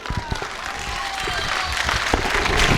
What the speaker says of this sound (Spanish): Un fuerte aplauso para Paco Taibo.